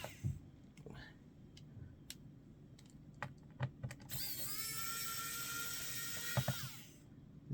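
Rear screws come out of an HP Pavilion x360 13-u101na laptop: close, scattered small clicks and ticks, then a steady mechanical whir lasting several seconds, followed by more clicks.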